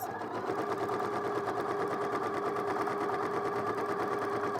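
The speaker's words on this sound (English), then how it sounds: "we'll sew around the neckline, taking your pins out before you get to the needle" A sewing machine runs a steady straight stitch around a garment neckline, its fast even needle chatter continuing unbroken and close for the whole stretch with no talking.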